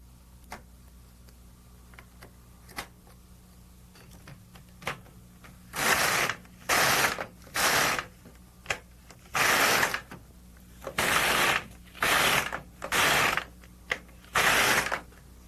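An LK150 knitting machine carriage is pushed across the bed in a tucked pattern, a string of eight or so loud ratcheting, clacking passes about a second each, near and alone, after faint scattered clicks and ticks.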